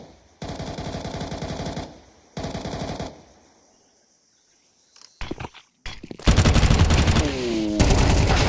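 Automatic gunfire in a professional esports shooter match plays out as two sustained bursts, a quiet pause, a few short sharp shots, then a long, loud closing barrage.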